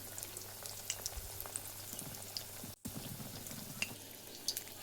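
Snacks deep-frying in hot oil over a low gas flame make a steady bubbling hiss with small crackles throughout, interrupted by one brief dropout near the middle.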